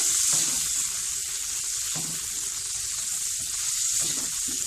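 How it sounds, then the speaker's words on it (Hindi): Finely chopped medium-size onion sizzles steadily in oil in a pan over a medium flame, with soft scraping of a spoon stirring it now and then. "प्याज को मीडियम फ्लेम पे मैं इसको कुक कर रही हूँ।"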